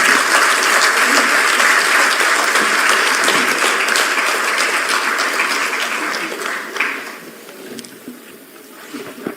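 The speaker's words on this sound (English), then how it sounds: "Can we have a round of applause, please?" A large audience at a book launch honouring Mallikarjun Kharge breaks into sustained, dense applause that holds steady for several seconds, then thins out and fades toward the end.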